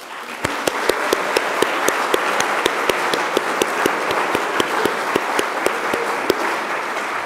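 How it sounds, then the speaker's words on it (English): A crowd at the Open Source Awards 2018 gives loud, sustained applause for award finalists. A dense bed of clapping is punctuated by sharp, regularly spaced close claps from one nearby pair of hands. "would you please all join me in a big round of applause for our finalists"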